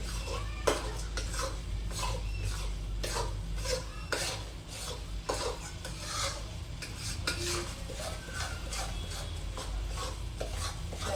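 A spoon stirs and scrapes through sukhdi with almond powder in a pan, making continuous rasping, rubbing strokes with occasional metallic clinks, close and fairly steady throughout.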